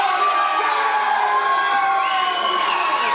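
A wrestling crowd at an independent I Quit match cheers and shouts loudly and steadily, a dense wall of voices with excited whoops and children's shrieks rising above it, close and unbroken throughout.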